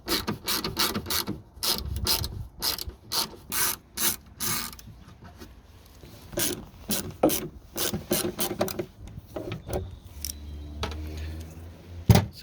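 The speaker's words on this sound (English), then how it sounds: "to remove the lens we need to take that bolt off and that bolt off, and that will require a T25" Two bolts holding an indicator lens are backed out with a T25 driver, giving a run of close scraping, ratcheting clicks and rubbing strokes with brief pauses and no talk.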